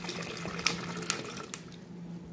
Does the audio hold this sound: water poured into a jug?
yes